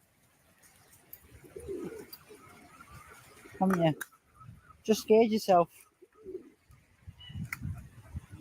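Pigeons cooing and a flock flapping up nearby, low coos with bursts of wing noise, while a person talks over it.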